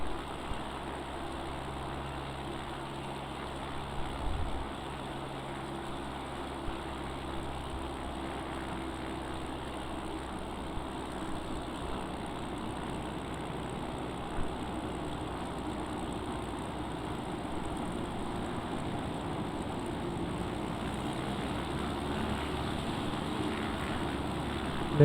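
Small ski-equipped airplane engine drones steadily in flight during a mountain approach to a meadow landing near Kirkwood, a continuous, moderately loud hum with little variation throughout.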